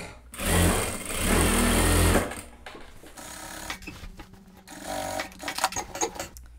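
An industrial sewing machine stitches a thick fabric blazer, running in a loud steady burst for about two seconds, followed by softer intermittent whirring and handling noises.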